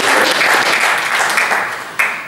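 Audience at a geomatics and survey engineering conference breaks into steady, loud clapping that continues without a break and fades slightly near the end.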